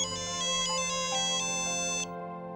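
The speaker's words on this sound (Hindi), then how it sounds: "फोन आ रहा है तुम्हारा।" A phone ringtone plays a bright electronic melody of repeated chiming notes, then stops abruptly near the end.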